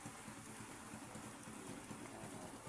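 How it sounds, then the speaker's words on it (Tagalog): Heavy rain falling outdoors at a fish vendor's shelter during a downpour, a dense, constant hiss of water with no breaks, loud and close throughout. "Ayan napakalakas yung ulan."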